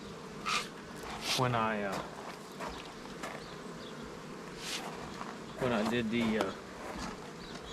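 Honey bees buzz close around a large beehive, with the hum rising in two louder passes. A person speaks softly over the buzzing throughout.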